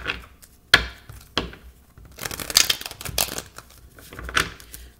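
Tarot cards shuffled by hand in quick bursts, crisp riffling and tapping at close range, with uneven pauses and no talking.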